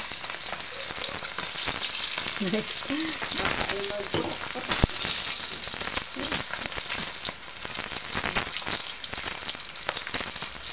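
Milkfish (bangus) fries in hot oil, giving a steady, dense crackling sizzle with scattered pops and a brief utensil clink, loud and close throughout.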